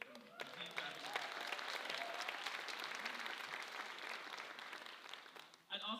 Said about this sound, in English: So I'd like to give them a huge round of applause.